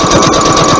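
A sewing machine runs a forward stitch along the cuff of a garment, a loud, close, rapid mechanical pulsing of needle strokes with no talking.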